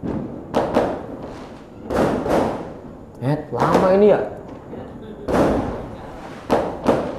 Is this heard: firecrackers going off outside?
yes